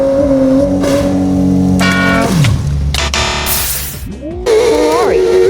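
Engine of a Porsche driven in the BeamNG.Drive driving game near a volcano, a steady loud revving drone with shifting pitch, gear changes and a brief screech, continuous across the stretch with no voice heard.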